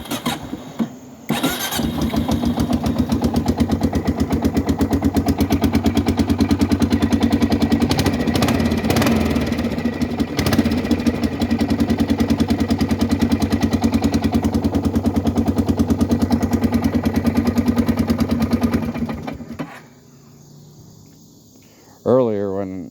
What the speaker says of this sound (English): The four-wheeler's been down for a while, so we haven't really been hauling wood like we usually do. So let's start it up for the video.